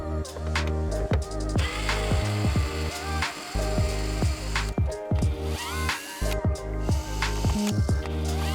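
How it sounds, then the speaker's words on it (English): A power screwdriver removes the screws holding a Jeep Wrangler radio unit, whirring loudly up close in repeated short bursts with brief stops between them. "Next, we'll remove the 4 screws that are holding in the radio brain"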